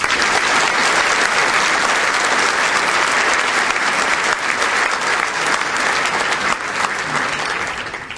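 A large audience at a Detroit Economic Club event breaks into sustained, loud applause welcoming Marathon Oil's president and CEO. Dense clapping stays even for several seconds, then starts to thin near the end.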